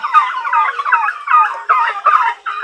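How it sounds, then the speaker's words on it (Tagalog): A hen near a hay pile where she laid eggs gives a run of loud, close, repeated cackling calls in uneven bursts, with no voices. "Ayun, manok yun, sigurado."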